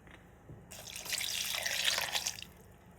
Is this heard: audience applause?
no